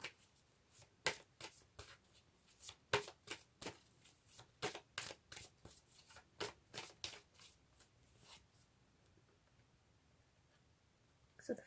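Angels Answer oracle cards shuffled close up, a long run of crisp papery riffles and slaps in an uneven rhythm, tapering off toward the end with no talk.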